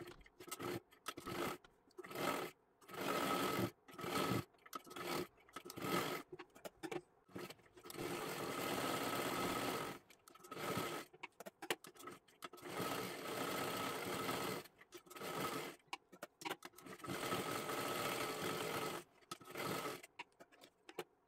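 A sewing machine stitches a blouse in repeated runs, short rapid bursts at first, then longer steady stretches of whirring chatter separated by silent pauses, close and clear with no talking.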